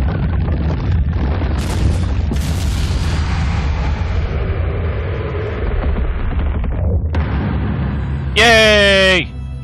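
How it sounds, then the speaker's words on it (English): Festival fireworks in Naruto Shippuden: Ultimate Ninja Storm Revolution burst in a series of booming blasts amid game sound, with a voice talking over them, ending in a bright rising chime. "Festival fireworks. Boom!"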